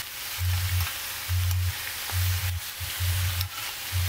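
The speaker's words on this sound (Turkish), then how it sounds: "Hepsini kızartıp kenara alıyorum." Steady sizzling of food frying in a pan, with a low hum pulsing on and off at intervals beneath the crackle.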